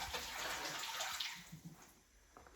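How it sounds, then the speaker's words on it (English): Water poured out of a container of peppers in a kitchen, a short splashing gush that pours steadily and then thins to a trickle, close and fairly quiet. "you go get your peppers and you dump the water out."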